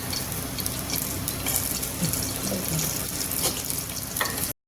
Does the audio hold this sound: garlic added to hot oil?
yes